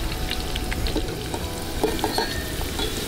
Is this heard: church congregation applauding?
no